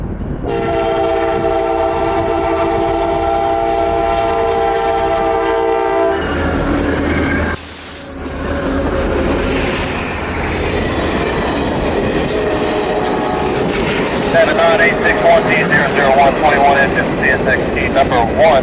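A CSX office car train of executives rolls along the tracks, opening with a long, loud, steady horn blast, then continuing with a sustained, close rumble and clatter of railcars passing; faint radio chatter may sit beneath it.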